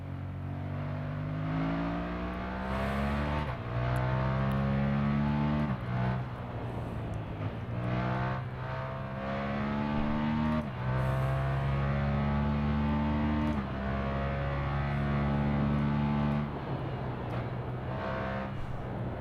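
A car driving in the Assetto Corsa racing game, its engine droning loudly and continuously as it revs up through the gears and drops back between shifts.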